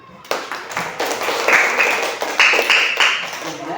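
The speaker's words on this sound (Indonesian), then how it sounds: "Tepuk tangan." A classroom group claps hands together after a student group's science presentation, a few seconds of fairly close, uneven clapping with distinct sharp slaps rising in rhythmic bursts.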